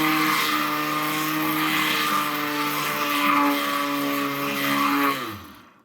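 A motorized bobbin winder spinning yarn tightly onto a weaving bobbin, a loud steady whirring whine with a constant pitch that spins down and stops near the end.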